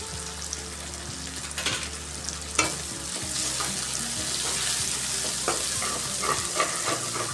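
Sliced onions with grated ginger and garlic sizzle in oil with salt as a spoon stirs and scrapes the pan, with a steady close frying hiss broken by irregular clinks and scrapes, for a rohu fish curry.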